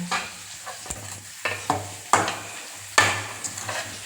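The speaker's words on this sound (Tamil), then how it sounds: "எல்லா சைடும் பிடிக்கிற மாதிரி கிளறணும்" Rice stirred in a frying pan, with repeated scraping strokes of a spatula against the pan over a steady sizzle, close up and without talk.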